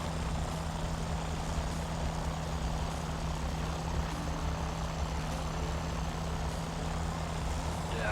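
Hawker Typhoon propeller engine running at high RPM, a steady loud drone with a constant tonal hum, unbroken and without talk.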